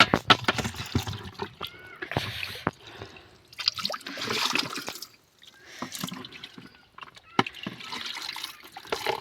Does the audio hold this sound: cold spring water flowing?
yes